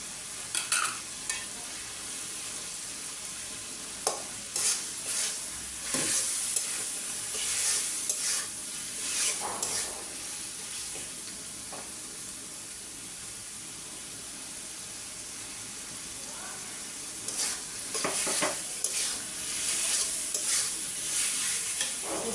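Cumin seeds fry in a pan while a chickpea curry is being made, giving a continuous hissing sizzle with occasional scraping stirs over about twenty seconds.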